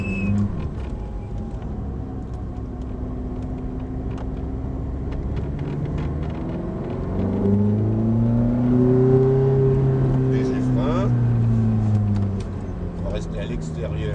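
A Ferrari Formula 1 car accelerates, its engine note climbing in pitch through the gears, loud and sustained behind someone talking over it.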